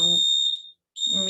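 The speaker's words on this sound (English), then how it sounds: "I think they're doing fire alarm testing." A fire alarm or smoke detector sounding during a test, a piercing high electronic tone in steady bursts with a short gap between them, close and loud, with a voice speaking through it.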